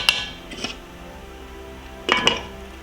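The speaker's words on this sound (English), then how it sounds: "Place the lamb chops in the baking dish" Lamb chops set into a baking dish for baked lamb, with a sharp clink and scrape of dishware at the start, another brief clatter, then a louder double clink of the dish near the end, close and with no talking.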